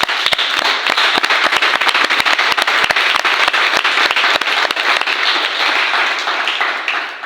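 A church congregation applauds with dense, steady clapping that fills the space, loud and sustained with no break, fading slightly at the end.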